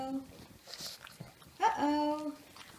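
Pug puppies whimper and whine in high, thin, drawn-out cries, close by and fairly soft, with a short yip near the end and quiet indoor background sounds.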